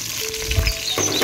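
Chopped onion dropped into hot oil with whole cumin and whole garam masala in a village kitchen, giving a brief, steady sizzle with a soft bump as it goes in.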